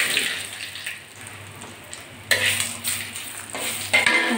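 Dry red chillies, bay leaf, panch phoron and radhuni spices sizzle in hot oil for a Bengali dal tempering, a steady close crackle with sharper spits and stirring scrapes.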